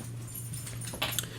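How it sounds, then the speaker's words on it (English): A pet dog whimpers to be let into a room, its soft whines rising briefly near the end over a steady low electrical hum, faint and close by. "Yeah, my dog, like, Jax wants to get in here"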